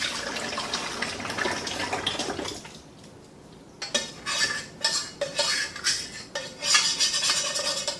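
Pumpkin mixture for makgeolli is dumped into a brewing vessel, giving a wet, splashing pour with clinking of utensils and pot, a brief pause, then renewed sloshing and scraping, loud and close.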